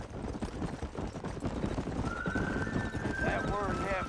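Clip-clop of a horse's hooves at a steady gallop in the Red Dead video game, with a rising whinny near the end, all under a constant background bed of game noise.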